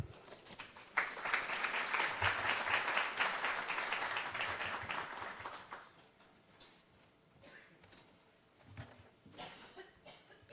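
Audience at a cost-sharing roundtable applauding to welcome a speaker: a steady burst of clapping from a modest crowd for about five seconds, fading into scattered claps, a cough and room shuffling.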